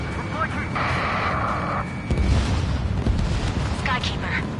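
A missile explodes in the jet combat game Ace Combat 7 with deep, rumbling booms and a sustained roar. Radio voices and alert tones sound over the blast.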